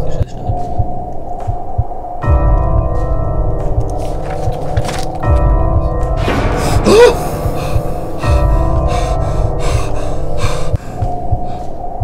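Heavy, snorting breathing from an unseen figure in the horror game Slender Sanatorium, loud and close over a droning ambient hum, with repeated throaty rasps and gasps running through the whole stretch.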